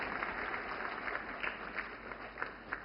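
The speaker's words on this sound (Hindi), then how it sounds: "जोरदार तालियों से स्वागत करें हमारी गंगा सागर दीदी का।" A large audience at the 'Sashakt Nari Viksit Bharat' event with the Prime Minister claps to welcome a woman honoree from Chhatrapati Sambhajinagar, Maharashtra, heard as faint, distant, continuous applause with scattered sharper claps.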